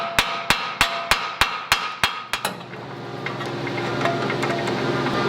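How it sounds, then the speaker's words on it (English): A hammer taps the tapered steering joint on a Ford Bronco, about nine sharp, evenly spaced metallic strikes in quick succession, loud and close, then a ringing pause with faint workshop noise. "This is in a taper, so you want to kind of tap that to get it to"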